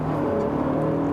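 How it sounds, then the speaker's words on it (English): A Honda NSX VTEC engine holds a steady, close, droning hum at constant pitch, with no clear rise in revs. "That VTEC engine is going to scream."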